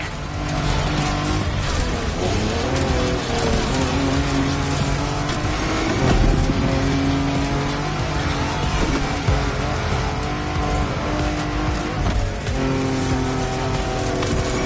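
A car engine roars steadily while driving in The Crew Motorfest, loud and continuous with shifting revs, occasional tire squeal, and game music underneath.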